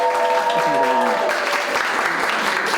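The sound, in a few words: audience applause for the lawmaker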